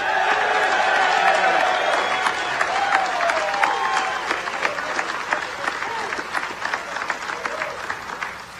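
A large crowd at a U.S. Merchant Marine Academy graduation ceremony gives a sustained round of applause for a graduating international midshipman. Dense clapping rings through a big venue with some cheering, and a voice talks over it at the start.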